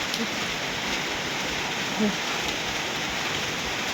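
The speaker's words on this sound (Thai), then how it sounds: "เบิ่งฝนพี่น้องเอ้ย" Steady rain falls in a continuous dense hiss of drops hitting surfaces, close and even throughout, with someone speaking faintly over it.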